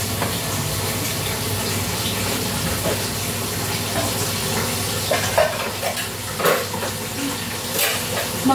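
Tap water runs steadily into a basin for washing on a home balcony, a constant close splashing flow with a few louder clatters near the end and no speech.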